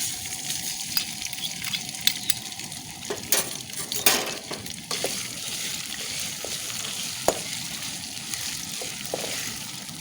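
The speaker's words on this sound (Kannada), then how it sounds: "ಈಗ 2 ಚಮಚ ನೋಡಿ ಶುಂಠಿ ಬೆಳ್ಳುಳ್ಳಿ ಪೇಸ್ಟ್ ಹಾಗೆ ಫ್ರೈ ಮಾಡ್ತಿದ್ದೇನೆ." Ginger garlic paste frying in a pan for a jackfruit Manchurian, a steady close sizzle broken by occasional stirring scrapes and clinks of a utensil against the pan.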